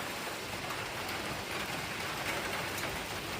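Heavy rain drums steadily on a car's roof and windshield, heard from inside the car near a riverside fish market during a downpour. The hiss is loud, dense and continuous, with no voices.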